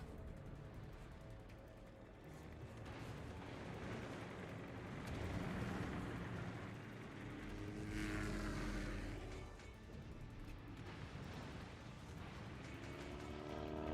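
Enemy aircraft drone overhead in the naval combat game World of Warships, a steady propeller roar swelling and fading over a long stretch, mixed with distant booming gunfire and explosions.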